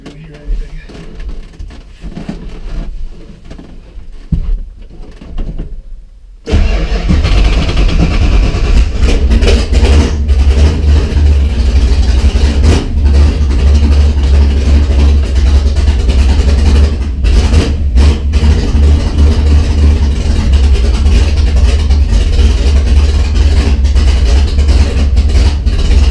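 A Foxbody car with forward-facing headers fires up after a few seconds of quiet shuffling, then settles into a loud, rough, rumbling idle that fills the rest of the stretch, with occasional voices beneath.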